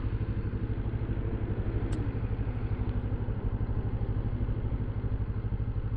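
A motorcycle with ABS brakes runs its engine with a low, rapid rhythmic thrum, steady and close, with wind noise on a gusty day in Toronto and a faint click near the middle.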